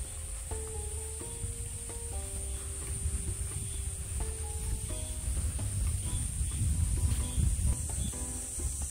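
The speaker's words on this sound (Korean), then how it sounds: "매미 소리 우는 소리 들리죠?" Cicadas buzzing on a sunny summer day along a tree-lined path at Maisan Tapsa temple, a steady high sustained drone over the whole stretch, with footsteps and soft tonal chimes underneath.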